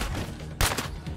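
Heavy gunfire from neighbors in State of Decay 2 during a zombie fight: a dense, rumbling fusillade with one sharper, louder shot standing out midway, close and continuous, with no talk.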